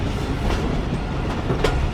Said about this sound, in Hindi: इसके ऊपर से ट्रेन हमारी गुजर चुकी है।